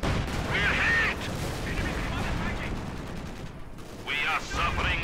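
Heavy gunfire and artillery from a Company of Heroes 2 battle at Poznan Citadel, including a 152 mm gun, roaring in dense continuous bursts with louder blasts near the start and end, mixed with game voice chatter.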